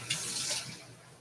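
Water runs from a kitchen tap while cooking, a steady, soft hiss of flowing water filling the moment without any voices.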